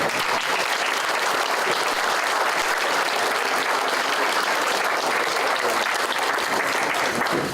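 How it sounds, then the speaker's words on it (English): Audience at a Quilts of Valor ceremony applauding steadily and loudly for the whole stretch, a dense continuous wash of clapping with no talk over it. "how about a big round of applause for the Material Girls?"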